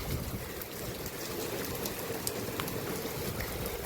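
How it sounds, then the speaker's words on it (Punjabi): Heavy rain with big drops pours steadily onto a village street in the evening, making a dense, even hiss with scattered close drop hits and no talk. "ਮੋਟੀ ਮੋਟੀ ਕਣੀ ਦਾ ਮੀਂਹ ਪੈ ਰਿਹਾ ਹੈਗਾ"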